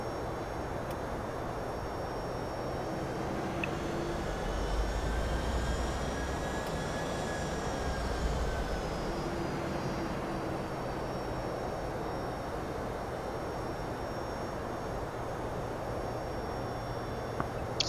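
Boeing 757-200 jet engines in X-Plane 11 run under manual throttle on a flight from KDFW to KSAN, a steady, faint low rumble with a thin whine that rises and falls, no voices.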